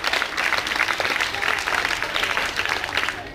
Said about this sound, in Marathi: म्हणून पालकांसाठी एकदा जोरदार टाळ्या वाजवा सर्वात.